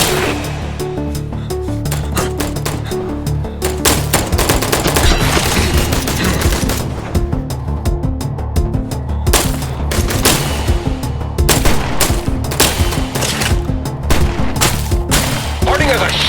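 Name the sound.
gunfire in video game I Am Your Beast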